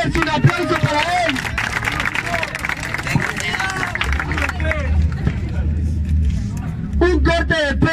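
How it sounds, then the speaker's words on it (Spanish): Audience applause at an underground freestyle rap battle final, clapping and cheering mixed into loud crowd babble, with a host's voice shouting over it. "¡Un aplauso para él!"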